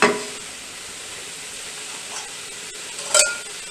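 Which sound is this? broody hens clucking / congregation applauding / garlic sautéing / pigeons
garlic sautéing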